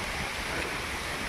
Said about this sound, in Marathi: एक झरा चाललाय